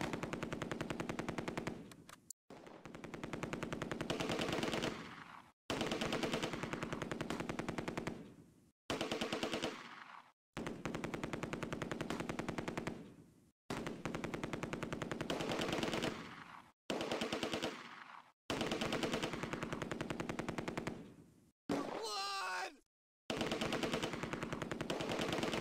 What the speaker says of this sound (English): Shots continue to be exchanged, but the battle positions do not shift.